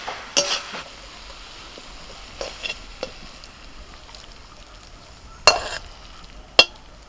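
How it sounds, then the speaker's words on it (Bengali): Potato curry is stirred in a pan to dry it out, scattered scraping and clacking strokes of a spoon over a soft, steady frying hiss, with a couple of sharper knocks against the pan. "শুধু নাড়াচাড়া করতে করতে একটু শুকিয়ে দেবে মানে তরকারিটা একটু শুকনো শুকনো হবে"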